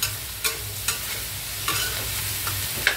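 Chicken and pork stir-fried in a pan for a Chinese dish, a steady close sizzle broken by several sharp scrapes and clinks of the spatula; no one talks.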